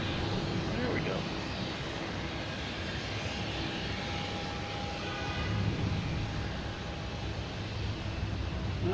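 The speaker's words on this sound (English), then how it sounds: "we have Japan Airlines, One World special livery, passing in review here" A Japan Airlines jet airliner in One World special livery passes at Boston Logan Airport, a steady broad engine roar holding throughout at moderate distance, with a faint tonal whine.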